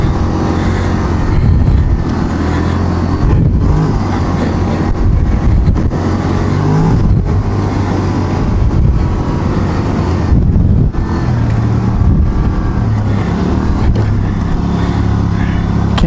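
Quad ATV engine drones steadily and loudly throughout, rumbling and shifting as it drives along forest trails near Oliver, BC, with bumps and rattles over rough ground.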